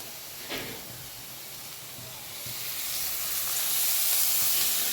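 Green tomatoes roast in a pan for chutney with a steady, loud sizzling hiss that slowly grows over a few seconds. It is close and continuous, with no talking.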